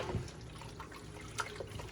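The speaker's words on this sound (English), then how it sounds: "Now you can add a little bit of pasta water." Pasta water poured from a cup into tomato sauce for baked chicken ziti, a short soft trickling splash, close and quiet with no talking.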